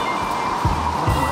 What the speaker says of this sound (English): I didn't realize this waterfall is coming out of the mountain.